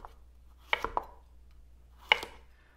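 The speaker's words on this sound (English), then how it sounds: "I've got a little mini cucumber here, which I'm going to slice long ways" A knife slices a mini cucumber lengthwise on a cutting board, with a quick cluster of three sharp taps and then a single knock over quiet background, close and clear.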